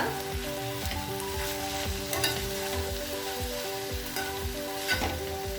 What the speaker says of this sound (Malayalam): ഇനി ഇതിലേക്ക് നമുക്ക് നമ്മുടെ അരപ്പ് ചേർത്ത് കൊടുക്കാം. നന്നായിട്ട് മിക്സ് ചെയ്ത് കൊടുക്കുക.